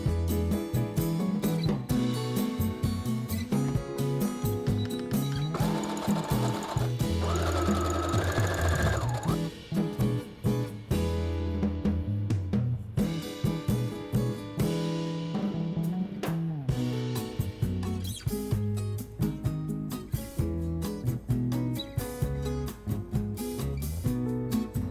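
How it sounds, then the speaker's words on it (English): Sewing machine stitching a welt onto the front and back panels of a halter neck top, running in long continuous bursts with brief pauses and speed changes, close and loud, with no talking. "now I'm just going to sew the welt onto the front and back panels"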